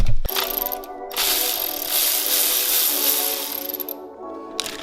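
A hand ratchet undoes a thermostat mount bolt on a Toyota Corolla XRS engine, giving close, loud, rapid clicking in steady back-and-forth strokes for several seconds, heard alone.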